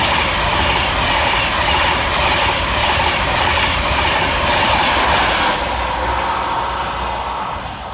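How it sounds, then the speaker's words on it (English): A Class 390 electric train, unit 390-123 on a London Euston to Birmingham New Street service, arrives at Stechford railway station with a loud, close, continuous rumble and rail noise that eases slightly at the end. "Next into the station is 390-123, working 9 Golf 16 from London Euston to Birmingham New"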